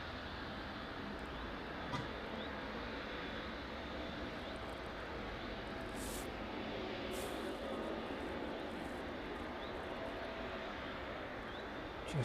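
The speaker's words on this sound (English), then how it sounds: "As the Ryanair makes its way down" A Ryanair airliner descends on approach to East Midlands Airport, a steady distant jet roar sustained throughout with faint wind noise and occasional brief clicks.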